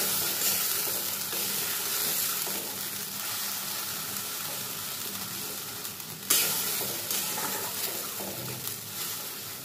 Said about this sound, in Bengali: এবার খুব ভালো করে এটাকে কষিয়ে নেব।